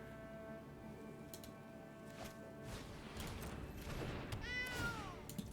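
A cat meows in the card game MTG Arena, a wavering, sliding cry near the end that rises from ambient game sounds and soft clicks, moderately loud.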